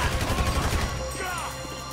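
Gunfire in Grand Theft Auto V during the Paleto Score heist, a dense, continuous barrage of rapid shots and crashing impacts, loud and close, with a voice briefly audible underneath.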